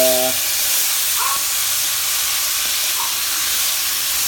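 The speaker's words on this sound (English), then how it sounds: "let that simmer together" Black bean mixture simmers in a pot, heard as a loud, steady hiss of steam and bubbling that runs without pause, with a brief tonal sound at the very start.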